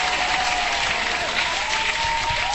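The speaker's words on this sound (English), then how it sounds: "Hand clap for that." Applause sound effect, a steady dense burst of many hands clapping at even loudness from start to finish.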